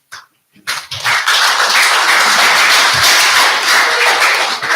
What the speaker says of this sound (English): Please, a round of applause for His Excellency once again.